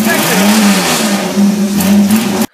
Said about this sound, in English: What does a Triton sound like with no muffler?